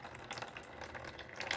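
Water is poured into a potted Hoya Krohniana Super Silver Splash during up-potting, a soft, steady trickle and splash close by that lasts throughout.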